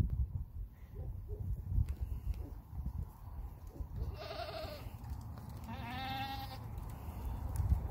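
Two short bleats from goats and baby goats stand out, one after the other, over a low rumble of farmyard noise and movement; fairly close.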